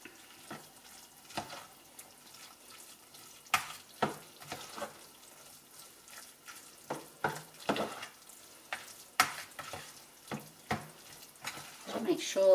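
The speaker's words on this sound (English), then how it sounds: "Give that a good stir." Risotto with cheese and butter is stirred in a bowl, giving soft wet scraping and sticky squelches at an irregular rhythm, quiet and close, with a few sharper knocks of the spoon.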